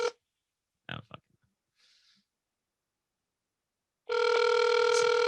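An outgoing phone call rings out: after a few faint clicks and near silence, a loud, steady electronic ringback tone starts and holds without a break.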